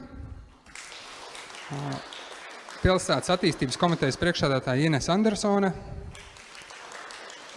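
An audience at the opening of the Koka Rīga wooden-building restoration workshop in Riga claps at the start and again at the end, with a speaker announcing names in between.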